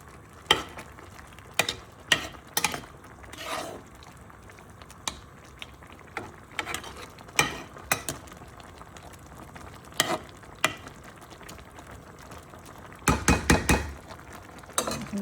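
Vegetables and lentils are stirred in a pan with a utensil, giving scattered scraping clinks and brief sizzling bursts, quiet and close, with a louder clattering flurry near the end and no talking.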